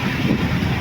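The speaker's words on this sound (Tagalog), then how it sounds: "kita nyo kung gaano kalakas ang hangin" Strong monsoon wind buffets a boat at sea off Negros, roaring steadily as heavy wind noise across the microphone for a brief moment.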